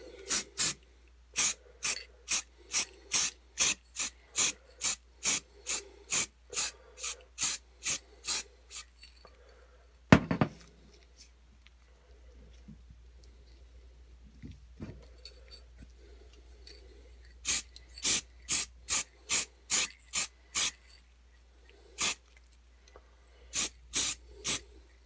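Chaos Black spray paint for Tyranid Genestealer miniatures hisses from the can in quick, evenly spaced short bursts, loud and close, with a long pause midway before another rapid series.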